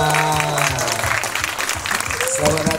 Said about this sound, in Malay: saya nak anda semua berikan tepukan gemuruh untuk Era Fazira